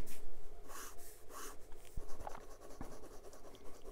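A 1947 Parker 51 Vacuumatic Demi fountain pen with a 14 karat gold fine nib writes on paper, making soft, close scratchy strokes with a few faint taps between them.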